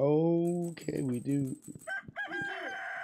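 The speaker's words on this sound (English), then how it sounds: "And there's a rooster crowing at us." A rooster crows once in the farming game Stardew Valley, a loud drawn-out call at the start, followed by brief talk from a person.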